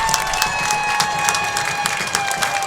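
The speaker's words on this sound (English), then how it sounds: "Crowd on their feet." A college football stadium crowd cheers and claps in a broad, sustained roar, with dense bursts of applause throughout.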